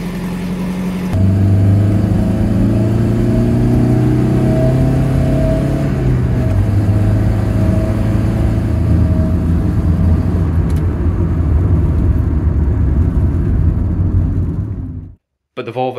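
A Volvo 740 car drives along with a steady engine drone and road rumble, its pitch shifting as it changes speed, before cutting out near the end; no speech is heard.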